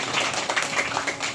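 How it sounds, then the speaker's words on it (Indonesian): An audience at a Christmas celebration applauds with dense, steady clapping that holds at an even level throughout. "Tepuk tangan dulu untuk STM kita"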